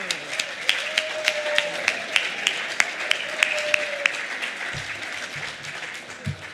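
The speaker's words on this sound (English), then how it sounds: "we would just like to give a little round of applause" A small congregation claps to welcome first-time visitors at a livestreamed service, a moderate patter of hands with a few brief voices and low thumps underneath, fading toward the end.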